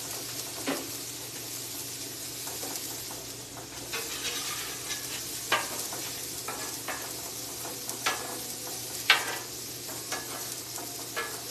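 Smashburger tacos with cheese and tortillas cooking on a griddle over a low burner, a steady close sizzle with scattered pops and light scraping clicks throughout.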